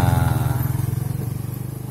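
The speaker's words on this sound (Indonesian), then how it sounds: "Ini ada motor lagi yang lewat." A motorcycle rolls across the Duwet suspension bridge, a narrow motorcycle-only crossing on the Kulonprogo–Magelang border, its engine putting out a close, steady pulsing drone that fades slightly as it passes.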